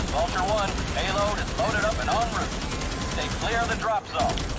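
Gunfire from Starship Troopers: Extermination rattles in repeated bursts throughout, mixed with game effects and playing under steady voice chat in Thai.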